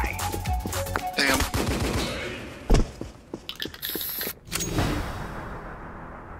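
Negev machine gun fire in Counter-Strike 2 on the Office map, rapid close bursts of gunshots, then a sharp loud crack and scattered shots and clicks as firing breaks off.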